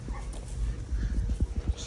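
An American Bully stud dog gives brief yips and whimpering whines mixed with low barks, close by, against a faint background of voices.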